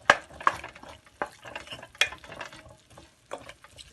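Ginger-garlic paste frying and being stirred in a pan for a home-style Hindi/Urdu recipe: soft sizzling under scattered scraping and clinking of a spoon against the pan, fairly quiet and close.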